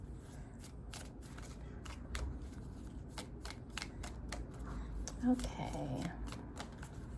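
Tarot cards being shuffled by hand in a quiet room, with a run of crisp riffling and flicking taps in irregular bursts, close and soft, with a brief spoken word near the end.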